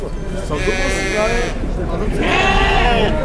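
Sakız sheep and lambs bleat repeatedly at a busy livestock market, several wavering calls close by with someone talking over the crowd noise.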